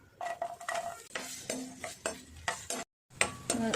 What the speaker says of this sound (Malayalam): കുറച്ച് വെളിച്ചെണ്ണ ഒഴിച്ച് കൊടുക്കണം. ഒരു സവാള അരിഞ്ഞിട്ട് കൊടുക്കണം.